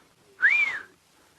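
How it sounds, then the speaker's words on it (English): A single short, rising whistle-like alarm call from a Thomson's gazelle on an African safari drive, clear and fairly near against a quiet background. "The Thompson's gazelles are going, whew. They've got like a whistle at their alarm call."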